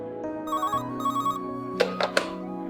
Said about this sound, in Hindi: आपके लिए कॉल है, कोई तौसीफ अहमद साहब है?